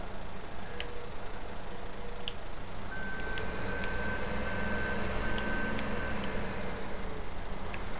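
A tractor with a rear counterweight and twin front wheels in Farming Simulator 17 reverses, its beeper giving a steady tone over a constant low engine rumble, with a few faint clicks scattered throughout.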